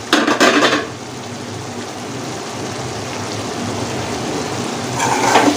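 Soya chunks chukka being stirred in a pot, with clattering scrapes of a metal utensil at the start and end and a steady soft sizzling hiss of cooking in between, close, no talk.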